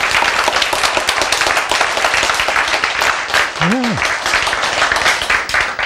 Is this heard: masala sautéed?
no